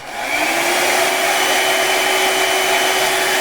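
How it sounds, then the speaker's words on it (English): A hair dryer blows steadily at close range, heating a camera C-mount, a loud, even rushing whoosh with a constant motor whine and no other sounds. "I take my hair dryer and I apply a bit of heat"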